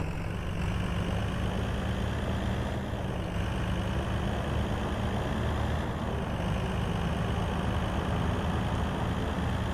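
A 6x6 military truck in a video game drives with a steady, loud low engine drone and continuous broadband grinding noise, as if something is dragging under the vehicle, with no talking.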